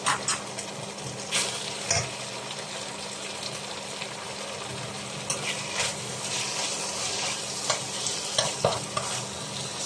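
Beef and onion stir fry sizzling in hot olive oil, with a steady loud hiss and crackle throughout and intermittent scrapes and clacks of stirring, with no talking.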